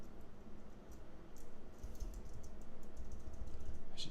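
Someone types in quick, uneven bursts on a computer keyboard, the keys clicking close and fairly soft over a low background hum, with no talk.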